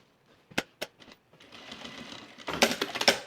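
A sewing machine tacks a fabric waistband to a seam: two or three sharp single stitches, then a short continuous whirring run that grows louder near the end, close and clear, with no talk.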